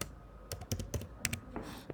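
Quick keystrokes clatter on a Mac computer keyboard, a short burst of about half a dozen close, light taps typed in fairly fast succession against a faint background.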